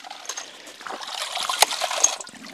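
Water trickles and splashes steadily through a ram pump, a continuous bright wash of running water with small splatters, close and moderately loud, with no talk.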